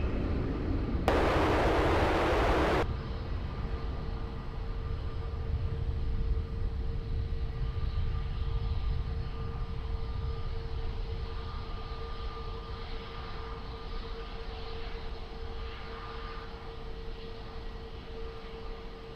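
A fixed-wing airliner takes off at Lisbon Airport, a steady broadband jet roar that holds throughout at moderate distance, with a brief burst of radio static near the start and a faint tonal hum underneath.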